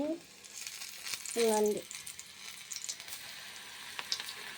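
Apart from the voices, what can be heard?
onion pakodi deep frying in oil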